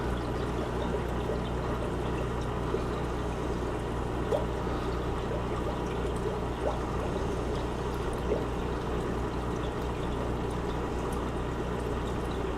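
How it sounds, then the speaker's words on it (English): Water siphoned out of a Neocaridina shrimp tank runs steadily through a tube in a continuous, unbroken trickle, fairly quiet, with no voices. "the water's slowly gonna come out"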